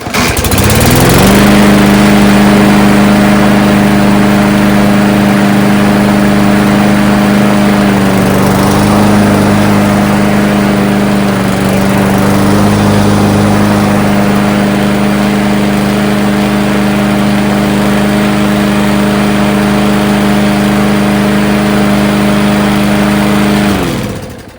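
A gas DeWalt lawn mower engine runs steadily at close range after a no-start fix following winter. Its loud, even drone dips briefly partway through, then holds until it cuts off at the end.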